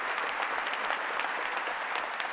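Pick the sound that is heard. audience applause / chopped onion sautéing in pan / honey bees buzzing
audience applause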